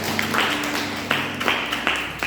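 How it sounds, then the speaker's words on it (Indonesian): Church congregation applauding during a Sunday worship service, with steady crowd clapping, fairly loud and close, rising in a few swells across the whole stretch. "Tepuk tangan buat Tuhan Yesus"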